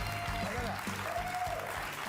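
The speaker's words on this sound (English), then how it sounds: "How does he get that many cheers?" A talk-show studio audience applauds and cheers in a dense, sustained wash of clapping, with a voice talking over it.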